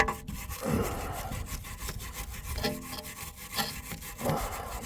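A brush scrubs a seized car brake caliper in steady, rough back-and-forth strokes at close range, a raspy scraping that carries on with no voices.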